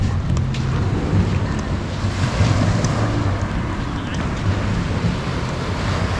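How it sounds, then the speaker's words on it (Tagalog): Ocean surf rolls onto a sandy beach at a resort, a loud continuous wash of waves mixed with heavy wind buffeting the microphone. "Oh grabe yung alon pala."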